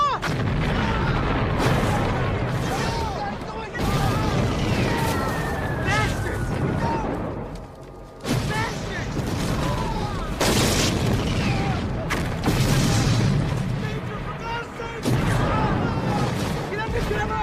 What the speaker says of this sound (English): Our guys are bombing us!